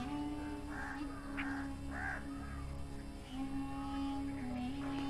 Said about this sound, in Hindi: इसके अलावा कौओं की आवाज़, चिड़ियों की चहचहाट